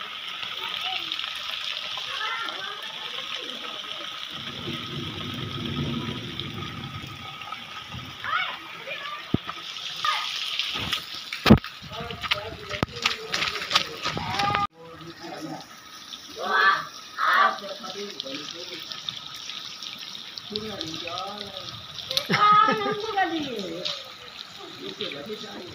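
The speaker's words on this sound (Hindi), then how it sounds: "बारिश हो रही है, ये देख सकते हैं गाइस, बारिश हो रही है।" Rain falling outdoors, a steady broadband wash with splashy water texture throughout, a few sharp knocks midway, and voices talking intermittently over it.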